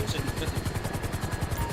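A helicopter in the video game GTA 5 thrums with a fast, rhythmic rotor chop, loud and steady throughout, with faint voices underneath.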